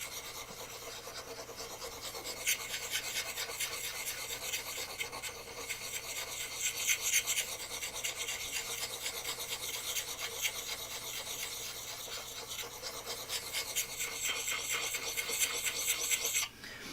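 Polishing compound is worked in circles across the blade of a Gransfors Bruk Scandinavian Forest Axe, giving a steady, close, scratchy rasp. The rubbing carries on unbroken with slight swells in intensity.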